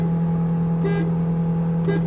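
A car horn sounding in short honks before a drag race launch between a manual 1.2 Fronx and a 1.6 diesel Verna, the tones held briefly over a steady engine idle hum.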